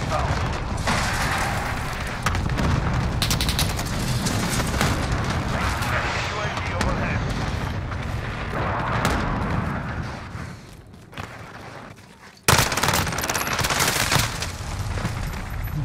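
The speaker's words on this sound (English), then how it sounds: "Enemy precision airstrike inbound." Heavy, continuous rumbling blasts from a precision airstrike in a multiplayer shooter game, loud and sustained with a brief dip near the end before another burst, over game noise.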